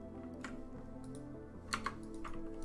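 Typing on a computer keyboard with a caps lock light, scattered key clicks and a few sharper taps over a low background hum, close and alone without talk.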